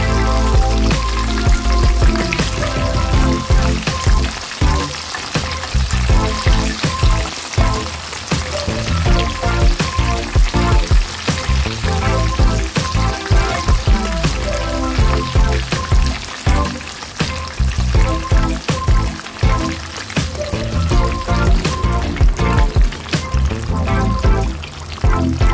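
Shrimp ebi furai deep-frying in hot oil, a dense, continuous crackling sizzle that stays loud and steady throughout, with no voices.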